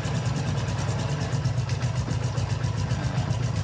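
A motorcycle engine being revved during an ignition timing adjustment, a loud, close, rough and steady mechanical drone with a pulsing low rumble, held without clear pauses and with no talk.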